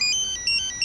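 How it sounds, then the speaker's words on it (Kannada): A phone ringtone chimes in a quick, bright, repeating electronic melody, clear and fairly close, with no voices. "ಆ ಫೋನ್ ಹೊಡ್ಕೋತಾ ಇದೆ"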